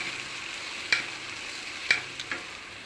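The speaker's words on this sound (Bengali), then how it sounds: "এখন গুড়টাকে ভালো করে গলিয়ে দিব" Jaggery and water heating in a pan make a soft, steady simmering hiss, broken by a few sharp scrapes or taps of a utensil stirring against the pan.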